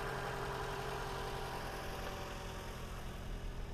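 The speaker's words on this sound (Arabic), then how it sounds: "سياره مثل ما تشوفون صوتها يبين بالكاميرا خشن لكن هي صوت مالتها كلش ناعم." A Toyota RAV4 engine idles steadily with a constant, slightly rough rumble and no change in pace.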